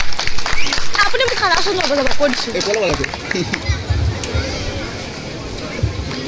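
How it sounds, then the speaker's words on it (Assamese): Audience applause breaks out at the Jhankar Media Award 2024 ceremony, rising as a host's voice fades and then continuing as a steady, dense clapping for several seconds. "ডাঙৰকৈ এটা হাত চাপৰি হ'ব লাগে"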